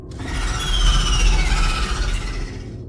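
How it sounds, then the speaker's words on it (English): A loud, bone-chilling shriek in a dark fantasy dungeon setting, a sustained piercing squeal with wavering high tones lasting about three seconds over a low rumbling bed, with no voices. "Suddenly, a loud, bone-chilling shriek, unlike anything I'd ever heard, pierced my ears"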